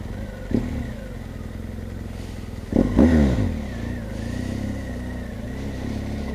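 A motorcycle engine drones steadily close by with a few louder revving surges, the continuous hum of riding filling the whole stretch.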